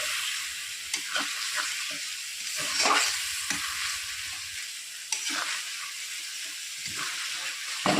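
A ginger-garlic spice mixture is sautéed in a pan with a little water, giving continuous sizzling and frying hiss broken by scraping stir strokes, close up and without talk.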